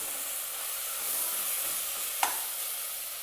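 Tomatoes frying in a pan with salt being stirred in, a steady soft sizzle throughout with a brief sharp scrape or clink near the end, no voices.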